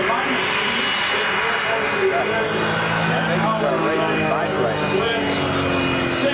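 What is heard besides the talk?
racing aircraft engine with afterburners at Reno Air Races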